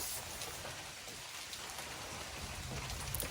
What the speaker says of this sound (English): I wasn't expecting this rain until 4 o'clock.